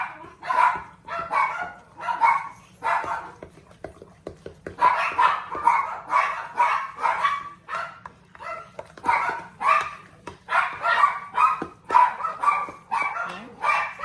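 Several dogs bark repeatedly in quick bursts, fairly close and loud, with short pauses between volleys and a faint low hum underneath.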